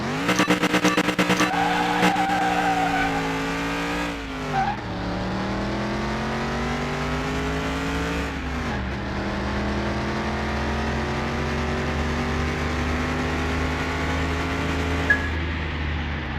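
Race cars in Car Mechanic Simulator 21, including a DLC car compared with Lamborghinis, roaring engines revving up and shifting through gears with tire squeal, sustained loud drone with steady pitch sweeps, no talk.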